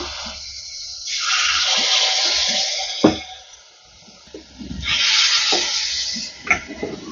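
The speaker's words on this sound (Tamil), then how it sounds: "கொஞ்சமாக எல்லாத்துலேயும் எண்ணெய் ஊற்றிடுவோம் கரைச்சி வச்ச மாவை போட வேண்டியதுதான்" Appam batter poured into hot oil in a pan, sizzling and hissing in two loud swells with a quieter lull between, and a few clicks and knocks of utensils nearby.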